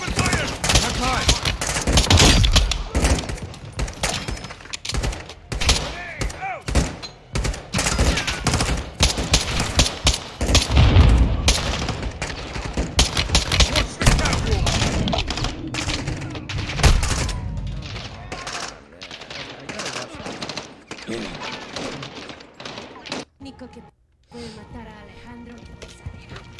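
Heavy gunfire in the video game Call of Duty Modern Warfare 2, rapid bursts and sustained automatic fire crackling loudly and nearly continuously, with shouted voices and battle noise mixed underneath and a brief lull near the end.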